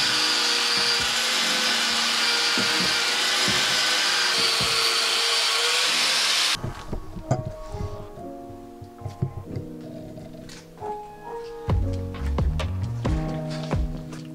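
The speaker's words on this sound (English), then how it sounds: "I use an angle grinder with a flap wheel and this will smooth it really nicely" Angle grinder with a flap wheel smoothing motorcycle seat foam gives a loud steady whining grind for several seconds, then stops, followed by quieter handling and scraping noises.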